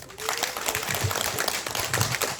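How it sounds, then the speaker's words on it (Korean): Short burst of scattered clapping from a seminar audience at a legal and tax compensation briefing, mixed with faint voices and a brief spoken fragment. "박수로 모시겠습니다"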